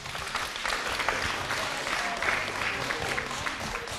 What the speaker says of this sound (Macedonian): Дај да дадеме еден огромен аплауз.